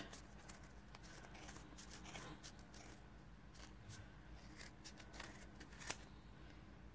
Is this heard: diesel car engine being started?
no